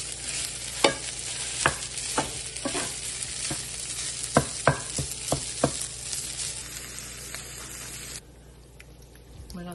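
A 100 g package of food fries in hot oil in a home kitchen, giving a dense, bright sizzle with scattered metallic stirring clicks. The sizzle drops off abruptly near the end, leaving a quieter hiss.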